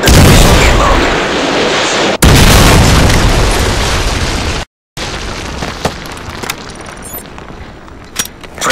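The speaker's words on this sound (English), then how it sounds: "Friendly Predator missile inbound." A Predator missile airstrike in Call of Duty hits with a loud, sustained explosive roar. A brief cut and a short silence follow, then smaller distant booms and pops trail off.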